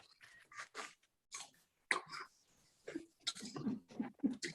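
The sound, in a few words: biting and crunching an apple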